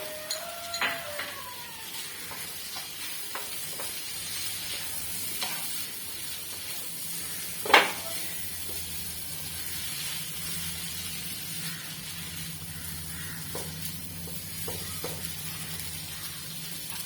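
Cooked beef tipped into a hot pan for beef fried rice gives a steady, fairly faint sizzle throughout, with scattered clinks of a spoon against the pan and one sharper knock near the middle.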